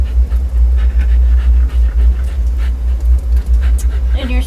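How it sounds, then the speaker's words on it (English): Dog, a female, breathing heavily and panting in steady quick pulses close by, partly masked by a loud low hum from a running furnace, with faint whimpering near the end. "I don't know if you can hear her breathing over the sound of the furnace"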